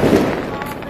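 Diwali firecrackers burst on a rooftop, a loud, dense crackling roar that fills the short moment at close range.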